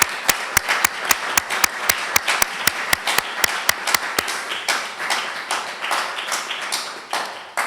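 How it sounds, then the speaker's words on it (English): Audience applause for a professor at an academic colloquium panel, opening with sharp, evenly spaced claps that soon blur into a denser, softer patter of many hands. "could we please give Professor Greene-Hayes a round of applause?"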